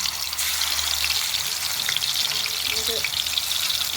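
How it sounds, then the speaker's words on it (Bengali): Pieces of snakehead fish fry in hot oil, a loud, close, continuous sizzling hiss with faint crackles and no talking. "আমি আগে ভেজে নেব মাছটা। তেল দিয়ে দিচ্ছি ভাজার জন্য।"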